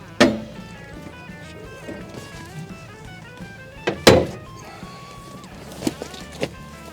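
Two sharp wooden thunks close together around the middle, a storage bench lid on a 23-foot North River Freedom boat flipped open and dropping back, with a softer knock at the start and faint bumps later over a low hum.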